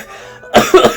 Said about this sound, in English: As evident by that cough